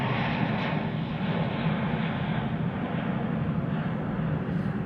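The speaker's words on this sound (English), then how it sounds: "I can even see the planes flying." A broad, steady roar of airplanes passing overhead fills the clip without pause, an even wash of engine noise with no voices.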